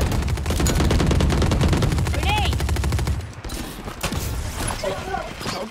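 Video game gunfire in a team shooter match, rapid automatic bursts crackling loudly for about three seconds, then scattered mechanical clicks and sparse shots, with players talking over the action.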